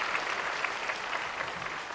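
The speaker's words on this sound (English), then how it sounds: "You deserve a big round of applause." Graduation-ceremony audience applauding in a steady, moderately distant wash of clapping that holds evenly for two seconds.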